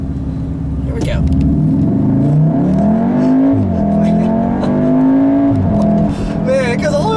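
A 2018 Volkswagen Golf R with an APR Stage 1 tune pulls hard under acceleration, its engine note climbing steadily through the revs. Loud, continuous and close, it ends with small crackling exhaust burps near the end of the run.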